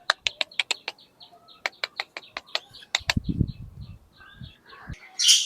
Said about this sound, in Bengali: ওই যে আমাদের কালিম পাখি